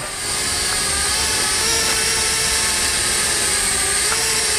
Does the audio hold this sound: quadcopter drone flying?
yes